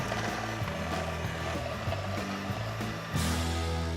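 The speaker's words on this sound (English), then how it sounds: "which I cream first with a wooden spoon and then an electric whisk" An electric whisk creams soft butter with golden caster sugar in a bowl, a loud continuous motor whir with a steady pitch that rises slightly toward the end, no voices over it.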